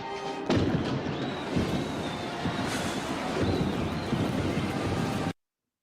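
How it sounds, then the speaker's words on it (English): A rapid series of sharp bangs and thuds, like gunshots, over a dense rumbling, noisy background, cutting off abruptly at the end. "Shoots him in the chest, shoots him in the eye, dramatically timed for the other gunfire."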